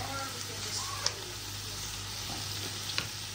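Chopped bell pepper stir-fried in a hot pan, giving a soft continuous sizzle with a couple of sharp utensil clicks against the pan, moderately quiet and close.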